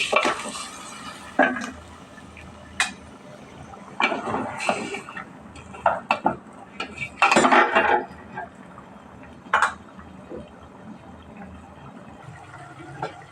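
Chicken pieces go into spiced masala in a pot and get stirred, making scattered metallic clanks and scraping bursts of a spoon against the pot over a quiet background.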